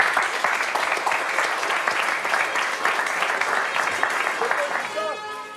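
An audience at a school assembly applauds the newly named school captain, a dense, steady wash of clapping that holds for several seconds before thinning out at the end.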